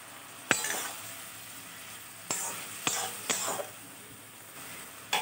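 Mustard, poppy seed and green chili paste hits a hot pan for a vegetarian pumpkin-stem chorchori, giving a steady soft sizzle with a few sharp bursts of stirring and spattering.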